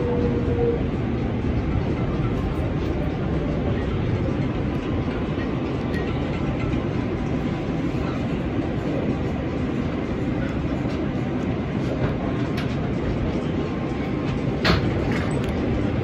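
An R188 subway train on the New York 7 express line runs steadily through its whole length, with a continuous loud low rumble, wheel clatter on the rails and a faint brief squeal near the end. No voices are heard.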